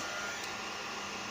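A 1 kW hair dryer runs steadily and loudly, a constant broadband whoosh with a faint motor hum and no pauses or voices.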